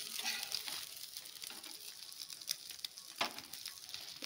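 Food frying in a pan with a continuous moderate sizzle, broken by a few brighter crackles and spatters, no voices.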